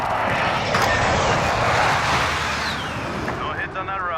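Attack helicopter in Call of Duty Warzone flies overhead with a loud, steady engine and rotor roar that fades slightly near the end, under radio chatter.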